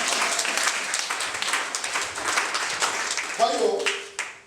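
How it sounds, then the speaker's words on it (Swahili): A church congregation breaks into applause during a sermon, a dense wash of many hands clapping that swells and then fades near the end, with a voice briefly speaking over it. "Makofi mengine"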